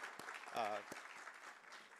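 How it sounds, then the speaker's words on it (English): Faint applause from a room at an annual general meeting, steady clapping with a brief voice rising over it partway through. "I do want a big round of applause for Rupal."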